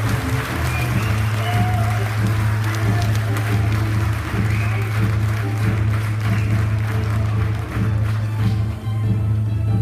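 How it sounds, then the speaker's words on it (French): An audience applauds the Shotokan karate club of Calais at a martial arts festival in Marck, a sustained, dense wash of clapping that holds steady for about ten seconds under a low hum. "Applaudissez-les bien fort, mesdames, messieurs."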